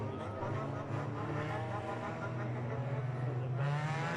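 Race cars on a track at the Gary Tic-Tic Lippincott Memorial, a steady loud roar of several engines running together under a green flag, continuous and fairly close throughout.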